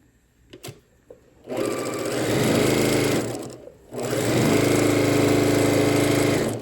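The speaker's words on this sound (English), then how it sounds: "And then I will start sewing." Sewing machine stitching quilt block strips for a Town Square quilt block, running in two sustained bursts with a short pause between, loud and steady with faint handling clicks before the first run.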